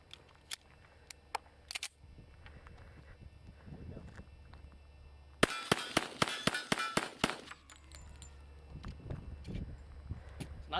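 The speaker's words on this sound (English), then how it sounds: "the gun's worked for 8 more rounds" A handgun fires eight rounds in a fast string of sharp, loud cracks, the burst standing out clearly between quieter stretches with faint voices and handling noise before and after.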